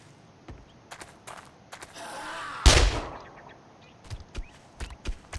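SMG gunfire in the survival game 7 Days to Die, sharp scattered shots with a heavier burst in the middle that rings out before the shots turn sporadic again.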